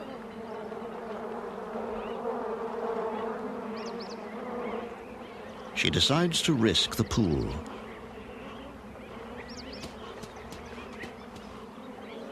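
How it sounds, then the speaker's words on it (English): Bees buzz steadily in the background beneath a narrator's voice, with a louder, closer burst of buzzing midway through from a pit full of bees. "She tries a pit, but finds it full of bees."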